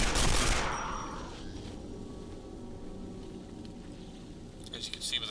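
Dark matter gun fired in the video game Quake 4: a loud burst of weapon discharge at the start decays into a lingering rumbling hiss, with scattered crackles returning near the end.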